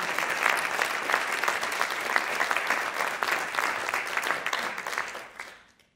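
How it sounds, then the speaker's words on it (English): Sustained applause from a large audience, steady and dense, then fading out quickly at the end. "I think that deserves a big round of applause."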